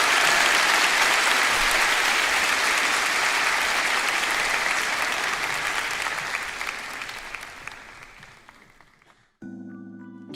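A church middle-school youth congregation claps at a worship service, with loud, dense applause that slowly thins and fades over about nine seconds before a soft musical chord enters.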